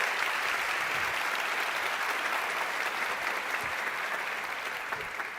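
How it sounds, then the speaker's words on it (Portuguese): Sustained applause from a large audience at a philosophy café talk event, dense and even throughout, easing slightly toward the end, with no voices standing out. "Palmas para eles, gente, por favor."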